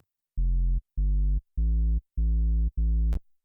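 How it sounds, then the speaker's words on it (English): A distorted sine-wave synth sub bass layer plays five sustained low bass notes, each about half a second long, separated by short gaps. The tone is clean and droning and ends with a brief high click. "It's a distorted sine wave"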